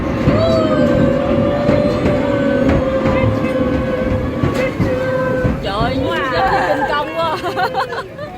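A miniature park train, the Irvine Park Railroad, rumbles and clatters steadily through a tunnel, with a sustained squeal from the wheels and people chattering over it.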